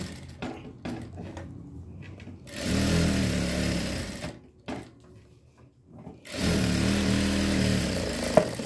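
A sewing machine stitches the neckline of a kameez in two loud, steady whirring bursts, with quieter handling clicks and rustles of fabric before and between them.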